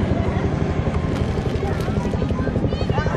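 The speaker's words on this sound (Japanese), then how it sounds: "後ろからヘリ来た、ヘリ来た、ヘリ来た" A military helicopter approaches during a Japan Ground Self-Defense Force training display at Himeji, its rotor producing a steady, rapid chopping throb that stays loud throughout while a voice talks over it.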